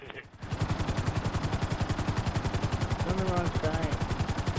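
Light machine gun fire in a video game, a long unbroken stream of evenly spaced loud shots in a fast, regular rhythm, with someone talking briefly over it.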